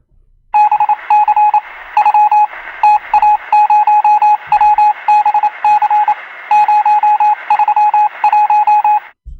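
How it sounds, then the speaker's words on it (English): A Morse code radio signal sound effect, loud clear tone keyed in rapid dots and dashes, running in bursts separated by short pauses. "Okay, I just received a Morse code from the German in the World War II."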